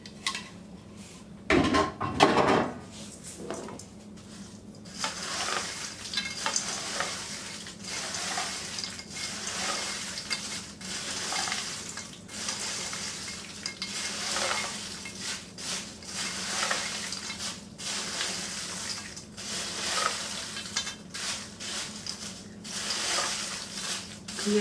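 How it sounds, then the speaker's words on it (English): Oyster crackers tossed and stirred in a seasoning oil for fiesta ranch crackers, a bright clatter at the start followed by a long, moderate rattling and rustling of stirring, close with no talk. "Okay, I'm just going to pour this over my crackers, then I'm going to toss them to get it all covered as much as I can."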